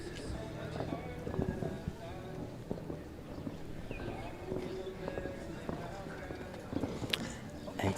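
A show jumping horse galloping over a course at an adult show jumping championship, with rhythmic hoof thuds and scattered knocks in a distant, reverberant arena while a commentator talks over them throughout.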